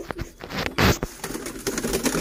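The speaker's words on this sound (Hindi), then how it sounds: "और दिखा देता हूँ एक ये है कबूतर।" A pigeon held up close, making brief cooing and fluttering sounds mixed with rustling and handling noise over about two seconds.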